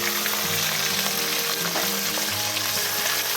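Paneer cubes frying in a pan with green chili and bay leaf, a steady close sizzle with occasional stirring scrapes and no talking.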